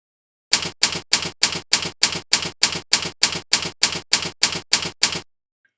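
Sharp typewriter keystrokes from a PowerPoint text animation effect, fourteen evenly spaced clacks in a steady rhythm, loud and isolated against silence.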